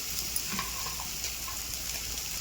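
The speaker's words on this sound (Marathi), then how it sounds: "आता मस्त परतून घ्यायचं." Salt and masala sautéing in a pan for paneer curry, a steady soft sizzle with faint stirring scrapes, close and continuous with no voices.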